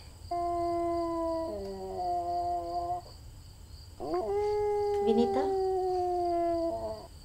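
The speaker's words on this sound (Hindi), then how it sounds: "दद्दा को कुत्ते ने देख लिया है, तभी तो इतना भौंक रहा है।" A dog howls in long, drawn-out wavering wails, with two sustained howls separated by a short pause and a brief yelp between them. Faint voices can be heard in the background.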